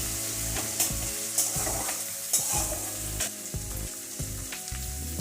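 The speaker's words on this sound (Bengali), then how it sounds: "টমেটোটা ভালো করে ভেজে নিতে হবে" Tomato frying in a pan for a Bengali fish roe curry, a steady sizzle broken by several sharp scrapes and knocks of stirring, close and with no talking.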